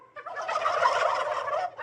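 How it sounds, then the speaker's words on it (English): Turkeys raised as a presidential Thanksgiving flock let out a loud, close, warbling gobble lasting over a second, with no one speaking. "Oh, here they are. Yeah. They are turkeys."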